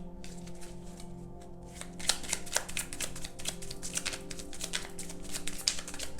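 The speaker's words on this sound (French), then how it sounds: "Je regarde si toutes les cartes sont bien retournées." Oracle cards being shuffled and flipped over by hand, a dense run of soft papery riffles and light slaps that grows louder after the first couple of seconds, recorded close with no talking.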